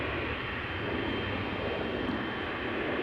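Air Canada Boeing 777-300ER jet at Amsterdam Schiphol airport, a steady broad distant engine roar with a constant rumbling hiss throughout.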